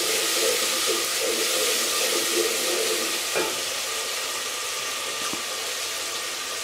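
Finely chopped tomato fries in a pan for aloo gosht, a steady close sizzle and hiss with a couple of brief stirring scrapes.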